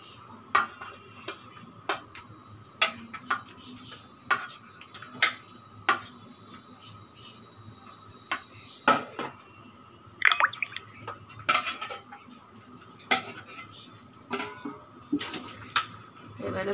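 Spices being worked together with mustard oil in a bowl, giving a run of soft wet squelches and light scrapes of a spoon against the bowl, scattered in irregular bursts at close range.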